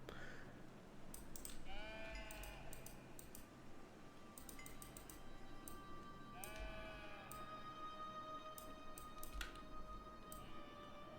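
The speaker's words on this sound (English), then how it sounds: "there are sheep upstairs" Sheep bleat repeatedly in the city-building game C3 Augustus, several wavering calls in clusters over a quiet ambient bed, with occasional sharp clicks between them.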